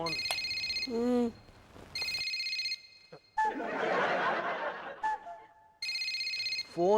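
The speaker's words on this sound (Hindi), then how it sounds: "फोन।" An old-style telephone bell rings in repeated loud bursts, three rings separated by pauses, with people talking and laughing in between and a mechanical whir in the middle.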